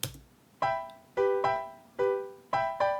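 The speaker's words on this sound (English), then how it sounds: "it's under Acoustic Piano's Yamaha Grand Piano, which is a nice pop sounding piano" An unprocessed Yamaha Grand pop piano sample plays minor chords, a series of struck chords with softer, smoother decay, clear and close with nothing else underneath.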